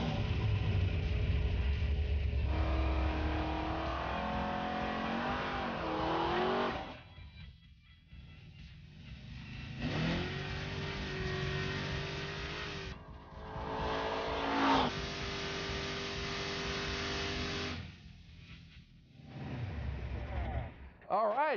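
A 500 cubic inch big block V8 in a 1971 Plymouth Duster rising and falling through several loud revs with pauses between, while people talk over the engine.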